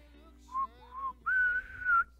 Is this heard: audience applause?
no